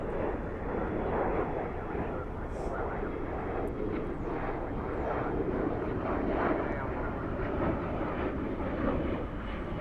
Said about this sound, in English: We have a United A320 off to Denver, flight 2330.